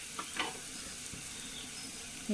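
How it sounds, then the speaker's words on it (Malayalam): Food sautés in a hot pan, a soft continuous sizzle with faint stirring scrapes, quiet and steady with no voices. "പച്ചമണം മാറുന്നത് വരെ നന്നായി വഴറ്റി കൊടുക്കാം"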